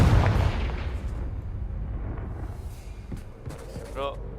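The Confringo spell explodes in the video game Hogwarts Legacy, a loud booming burst at the start that leaves a rumbling, crackling tail, with a short vocal sound near the end.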